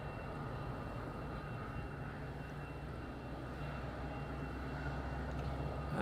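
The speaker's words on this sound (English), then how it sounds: "Let's go for the next landing." Airplane landing at Madeira Island Airport, a steady low engine roar heard from a distance, fairly faint and unbroken throughout.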